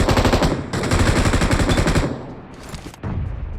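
Rapid bursts of machine-gun fire from a 100-round magazine being sprayed in a video game, loud, continuous stuttering volleys with a short lull before the shooting resumes.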